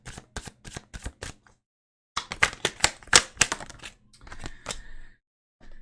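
Tarot cards drawn and shuffled during a reading: a handful of crisp, separate snaps, then after a pause a rapid flurry of riffling clicks, close and fairly loud, with no talking.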